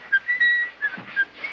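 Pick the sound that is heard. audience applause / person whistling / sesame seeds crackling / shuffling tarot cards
person whistling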